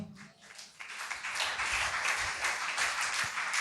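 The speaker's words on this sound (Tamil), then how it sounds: "கைத்தட்டுங்க பார்க்கலாம்" A church congregation at a Sunday service claps their hands together, a dense, sustained patter of many hands filling the room at moderate loudness, continuing without a pause for several seconds.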